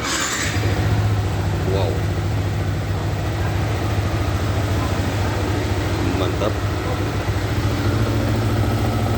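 A Yamaha R15 motorcycle with a stock engine idles steadily and close by, a continuous low hum that runs through the clip while someone speaks briefly over it.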